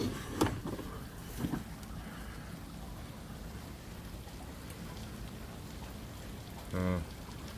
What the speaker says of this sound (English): it's really pouring out there, but it's not hail